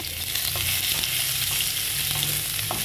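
Garlic sizzles in a hot pan as the first step of cooking sardines, a loud steady crackling fry heard close up with faint stirring clicks throughout.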